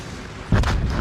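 A single heavy boom of naval ship gunfire in the video game World of Warships, one sudden deep report midway after a quiet lead-in, rumbling on briefly.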